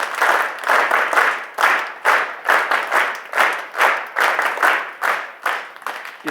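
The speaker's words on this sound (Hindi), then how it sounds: "जोरदार तालियां इसके लिए" Enthusiastic rhythmic clapping from a crowd of students at a school prayer assembly in Jharkhand, loud and close, swelling in repeated bursts for several seconds.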